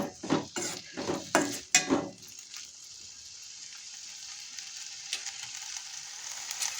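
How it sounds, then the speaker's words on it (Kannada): Onion and tomato frying in a pan, with several loud stirring scrapes and clatters over the first two seconds, then a steady soft sizzle on its own. "ಈರುಳ್ಳಿ ಮತ್ತು ಟೊಮೆಟೊ ಸಾಫ್ಟಾಗಿ ಬೇಯೋ ತನಕ ನೀವು ಈ ಥರ ಇದನ್ನು ಫ್ರೈ ಮಾಡಿಕೊಳ್ಳೇಬೇಕು."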